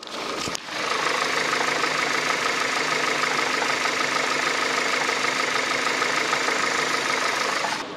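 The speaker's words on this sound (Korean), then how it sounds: "엔진 소리 한번 들어볼게요." A Kia K5 engine idles steadily with a low, even rumble and a faint knocking texture, close by, after a brief clunk at the start.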